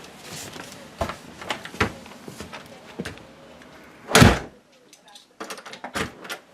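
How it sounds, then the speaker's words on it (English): A door fitted with a newly installed weather strip closes with a single loud, solid thump, preceded by scattered handling knocks and clicks and followed by a brief quiet and a few light taps. "Let's see if the door closes."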